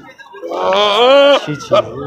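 A goat at a busy goat market in Bhopal lets out a loud, drawn-out wavering bleat up close, followed by a shorter second cry, with people talking around it.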